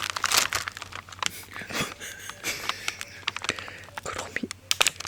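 Stickers crinkle and rustle close up as they are handled in a sticker swap between a brother and sister, with bursts of crackly plastic handling and soft breaths throughout.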